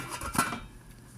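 A metal lid is set down on a cooking pot of vegetable stew with okra, squash and jute leaves, giving one brief clattering clank near the mic, followed by quiet room noise.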